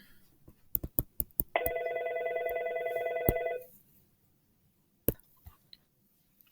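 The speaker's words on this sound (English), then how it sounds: "Sorry about that phone ringing, everybody." A telephone rings once, a sustained electronic trill lasting about two seconds, amid scattered sharp clicks and taps in an otherwise quiet room.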